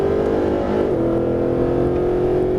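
A Mercedes-Benz SLS AMG V8 pulling hard on a Las Vegas track, a loud, close engine drone that climbs in pitch and then drops as it shifts up, holding strong throughout.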